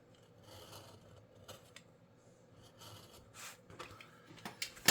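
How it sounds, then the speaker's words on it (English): Scissors snip and scrape through excess leather or fabric while a phone bag is being made, a few quiet irregular cuts and rubbing sounds close by, growing louder toward the end. "Trim the excess."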